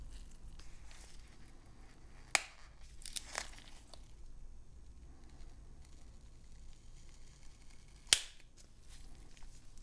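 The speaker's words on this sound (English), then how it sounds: "Peel off the wireless charging coil from the lower module" A wireless charging coil is peeled off the lower speaker module of a Samsung S25 FE phone, giving quiet close crinkling and tearing with two sharp crackling snaps of adhesive letting go.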